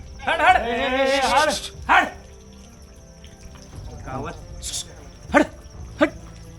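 A dog barks a few times amid people talking at Rajgad Fort during the monsoon, with insects chirping steadily in the background.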